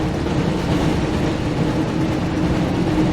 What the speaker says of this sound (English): Pick up the speed boost to stay ahead of the train.